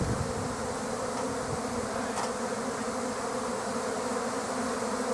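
A thick bee swarm clustering in the open air gives off a dense, steady buzzing drone close by. It continues without a break, with no voices.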